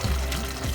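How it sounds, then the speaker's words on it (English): Water poured from a cup into a pot of mutton curry, giving a short, close, splashing gush that lasts under a second. "I am adding 2 cups of water."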